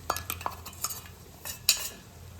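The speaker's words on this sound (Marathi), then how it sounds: "आपल्याला टाकायचं आहे जे आपण दळून घेतलं आहे" Ground spice powder added to bitter gourd in a pan, with a quick run of light spoon clicks and scraping against metal and a faint sizzle underneath.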